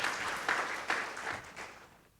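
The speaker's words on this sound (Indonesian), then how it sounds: "Yang paham berikan tepuk tangan meriah buat Tuhan kita" Congregation applauding during an online Sunday church service, a fairly quiet, short burst of clapping that swells in a few pulses and fades out toward the end, with no talk over it.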